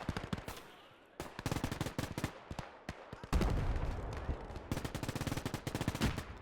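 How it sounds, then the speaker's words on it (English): MG42 machine gun fire in the video game Gates of Hell, long rapid bursts of loud, dense automatic shots with brief pauses between strings, mixed with other gunfire in a battle. "Yeah, that's MG42 opening up now."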